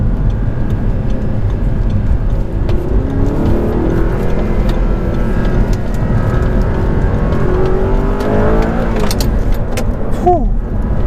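Audi R8 with high-flow air filters, driven in sport mode: loud, continuous engine drone from inside the cabin, rising in pitch as the car accelerates, with a few faint ticks over the constant road and engine roar.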